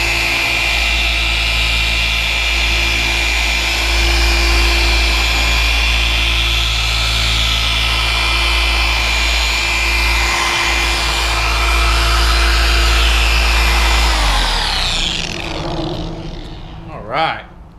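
A Shinemaster M15 Pro polisher runs steadily on a car panel with light pressure, giving a loud, even, close whine and hum that holds for most of the stretch before spinning down near the end.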